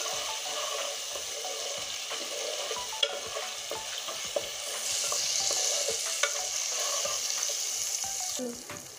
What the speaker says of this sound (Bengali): এবার রসুনটা ভালো করে ভেজে নিব, রসুনের কাঁচা গন্ধ যতক্ষণ না যাবে ততক্ষণ আমি ভাজতে থাকবো।